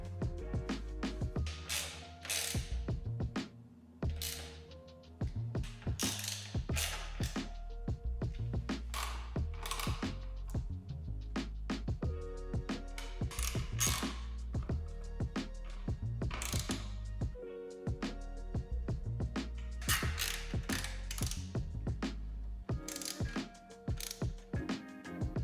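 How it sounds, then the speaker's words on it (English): Five screws and a new push rivet being reinstalled on the splash guard of a LiveWire S2 Del Mar electric motorcycle: repeated ratcheting clicks and mechanical tool sounds in bursts, close up, without speech. "I can reinstall the 5 screws and the new push rivet"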